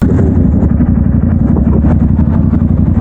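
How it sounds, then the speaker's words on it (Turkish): A motorcycle fleeing a police motorcycle unit drones steadily and loudly with a rough, continuous engine rumble throughout, close and with no talk over it. "Motorcu, Yunus polisini görünce kaçmaya başlıyor."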